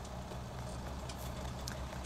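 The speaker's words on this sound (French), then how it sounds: "Je vais peut-être rapprocher un peu le tracteur." A tractor engine in Farming Simulator 19 hums steadily as the machine moves around the farm, a continuous droning rumble with no break.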